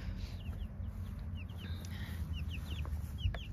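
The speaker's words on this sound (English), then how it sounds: "They're in this mobile chicken tractor," Chickens in a mobile chicken tractor cluck and chirp in short, scattered calls at close range over a low rumbling background, with no talking.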